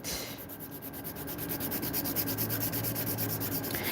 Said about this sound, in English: when I'm filing, I start with my side walls, making sure they're nice and straight